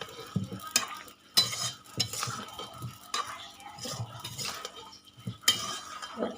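Spices and chili powder being stirred into a five-vegetable mixture in a pan, with intermittent scraping and clinking spoon strokes against metal over a faint sizzle, in uneven bursts.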